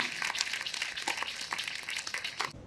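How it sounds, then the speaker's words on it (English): An audience applauds a man being honored at a celebration, a dense burst of clapping that keeps up steadily before cutting off abruptly near the end. "Another round of applause for the man that we're celebrating and honoring today."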